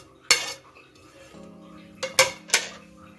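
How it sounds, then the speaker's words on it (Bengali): Spoon scraping and clinking against a pot while orange kheer is mixed with cashews, raisins and almonds; a few sharp metallic knocks stand out over soft stirring, close and fairly loud. "আমি ভালো করে সবকিছু ক্ষীরের সঙ্গে মিশিয়ে নিচ্ছি"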